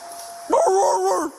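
A voice imitates a police K-9 dog, giving a short run of gruff, yapping barks up close against a quiet background.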